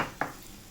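A quick hiss and sputter as water is poured into a hot pan of garlic fenugreek greens, one sharp sizzling burst that quickly settles into a low simmer.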